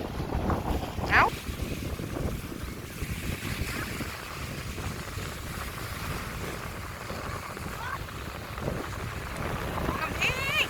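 Strong wind blowing outdoors at sunset where children kick a football, a constant rough rumble of gusts over the microphone, with occasional faint voices in the background.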